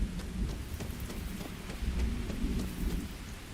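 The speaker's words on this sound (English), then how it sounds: "I think it's the first time I've seen it raining on Hopetown." Steady rainfall with low rumbling thunder rolling underneath in the video game Starfield, a continuous stormy wash with no voices.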